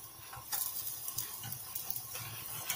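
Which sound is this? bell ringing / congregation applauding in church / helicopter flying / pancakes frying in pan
pancakes frying in pan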